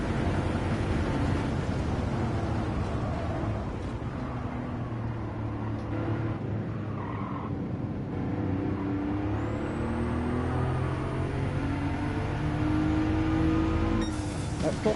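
A Porsche race car, the Widowmaker, driven in Gran Turismo 7: a steady, loud engine drone that holds throughout and climbs in pitch as the revs rise toward the end.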